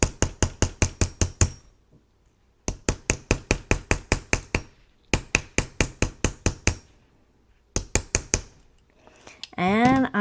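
Sharp, close taps of a nylon hammer flattening a wire-wrapped earring piece on a bench block, struck in quick bursts of about ten blows separated by short pauses, with a voice beginning at the end.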